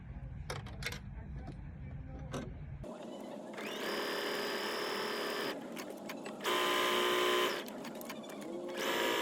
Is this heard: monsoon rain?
no